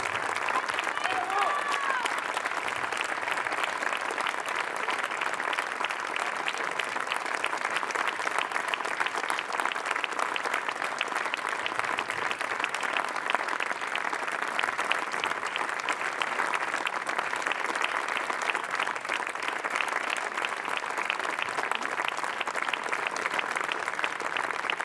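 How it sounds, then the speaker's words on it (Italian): A long, sustained round of applause from a large audience at a book presentation for poet and artist Bruno Fritsch, dense steady clapping holding evenly throughout with crowd murmur underneath. "E rinnoviamo un grande e lungo applauso a Brunetto per tutto questo."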